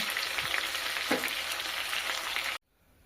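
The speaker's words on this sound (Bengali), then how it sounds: "কয়েক মিনিট ধরে আমি 2 পিঠে লাল লাল করে ভেজে নিয়েছি।" Chicken fries in a wok, browned on both sides, giving a steady dense sizzle with a couple of stirring scrapes, then cutting off abruptly into near silence.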